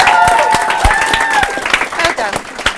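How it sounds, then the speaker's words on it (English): An audience claps for author Robert Muchamore at a World Book Day school talk. The clapping is steady and sharp, and voices and a tonal sound run over it. "Can you give everyone a round of applause to Robert?"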